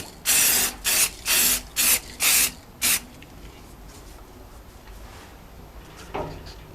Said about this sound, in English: Just a little spray demo, just dust it on.